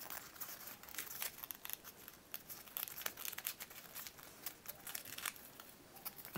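Paper being folded and creased into a six-pointed Star of David, giving close crinkling and crumpling rustles with sharp bursts throughout, no talking.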